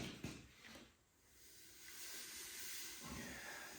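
Hot forged steel from a homemade cant hook being quenched in a plastic bucket of water, giving a steady broadband hiss that swells after a brief sizzle and holds for several seconds, close and moderately quiet.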